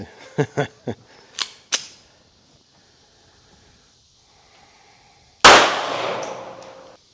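Five sharp reports from a Hi Point JHP 45 pistol crack in quick succession, followed by a quiet stretch and a later loud burst with a hissing tail; the shots sound close and punchy.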